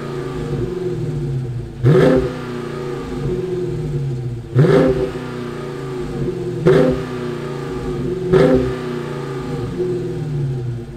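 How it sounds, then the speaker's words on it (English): A 2021 Dodge Challenger Scat Pack Widebody V8 idling with a deep rumble and blipped four times at roughly even intervals, each rev rising sharply then falling back, close and loud with no talk. "Let's go ahead and fire up this Scat Pack and hear what it sounds like."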